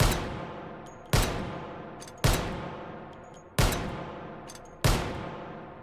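Five Desert Eagle .50 AE pistol shots fired in the VR game H3VR, each a loud sharp crack with a ringing decay, spaced roughly a second apart at a slow deliberate pace, with faint mechanical clicks between shots.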